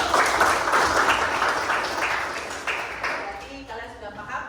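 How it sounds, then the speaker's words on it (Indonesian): Students in a classroom clap in appreciation for a classmate, a crowd of hand claps that fades over a few seconds while voices talk over it. "kita tepuk apresiasi untuk teman kita yang telah menjawab materi sebelumnya"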